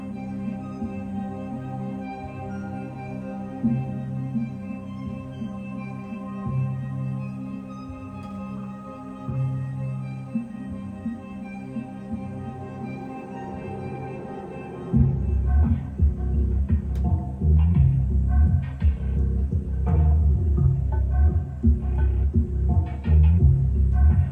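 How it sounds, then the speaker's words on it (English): A steady electronic hum with faint high-pitched whining tones from an RX 6950 XT graphics card's coil whine, joined midway by a louder pulsing, throbbing buzz that fluctuates rhythmically. "It has quite a bit of coil whine."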